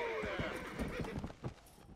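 Horse in the Red Dead Redemption: Undead Nightmare video game whinnies with a falling cry, then hooves clop in an uneven rhythm, close and fairly loud, while voices murmur faintly underneath.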